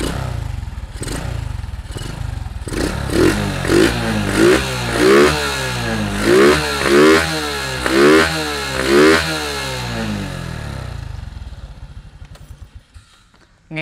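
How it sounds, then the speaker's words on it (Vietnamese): A Honda Wave Alpha motorcycle with a 118cc engine and a loud aftermarket exhaust idles, then revs in a series of sharp, rhythmic bursts before settling back and cutting off. "để máy cho mọi người nghe cái bô móc của mình và cái động cơ 118cc này"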